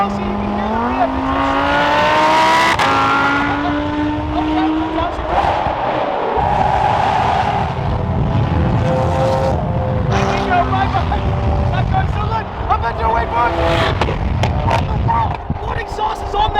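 A loud Lamborghini exhaust roars and revs up and down at a supercar rally in Utah, its engine note rising and falling, with crowd noise and voices mixed in behind it.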